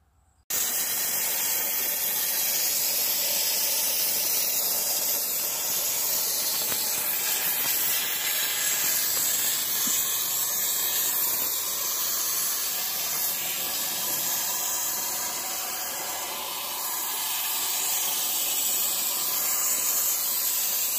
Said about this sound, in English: So I got to steam cleaning the door panel,